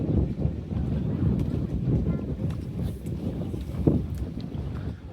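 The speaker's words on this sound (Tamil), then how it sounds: "வஞ்சகம் இல்லாமல் காற்று மடிக்குது" Strong wind blowing outdoors on a bridge in Germany, gusty low rumbling buffeting against the microphone, continuous and close, with faint background sounds.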